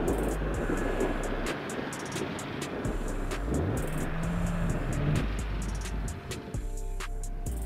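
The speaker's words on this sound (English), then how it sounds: "Switching to a lower gear only provokes a large slip of all wheels" A Toyota Land Cruiser 76 in low gear strains with all wheels slipping, its engine a steady close drone with rising and falling whine and scattered knocks and clatter throughout.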